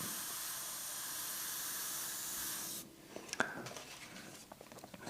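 An airbrush sprays paint onto a monochrome portrait with a soft, steady hiss, then cuts off. A few faint taps and light scratchy touches follow in the quiet.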